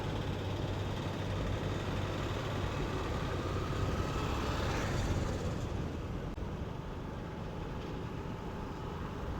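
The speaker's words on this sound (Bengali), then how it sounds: "খেয়ে আবার বাইক স্টার্ট করেছি" A motorbike rides along the road from Bhubaneswar toward Puri, a continuous rumbling engine and wind noise filling the whole stretch at a steady level, with no one speaking.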